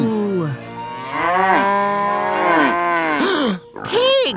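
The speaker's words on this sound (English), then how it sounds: "Cows!" Cattle mooing in a large open grassy area, several long drawn-out moos in a row, one after another and close by, with a brief gap near the end before a final call.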